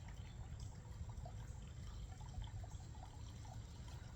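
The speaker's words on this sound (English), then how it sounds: "We'll also water these in." Water trickles and pours softly onto freshly planted Kingsville boxwood cuttings packed in soil, a faint steady stream alone with no talk.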